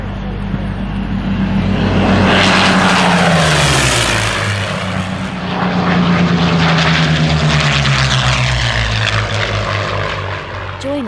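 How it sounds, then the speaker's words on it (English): Curtiss P-40E Kittyhawk fighters, one shark-mouthed in American Volunteer Group markings, fly an air display with a loud, steady piston-propeller drone that swells and fades as the aircraft pass overhead. "P-40N of Garth Hogan from Auckland was joined by the shark-mouthed P-40E, wearing American Volunteer Group markings"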